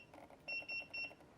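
Three bright electronic beeps from a Godox SK400II strobe monolight as its power dial is turned, evenly spaced, close and clear over a low background hum.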